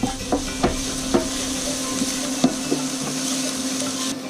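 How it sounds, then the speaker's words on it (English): Onions sautéing with a bay leaf in a pan give a faint continuous sizzle, punctuated by a few light knocks and scrapes of a utensil stirring them, with no one talking. "just saute those until those onions start to cook a little bit"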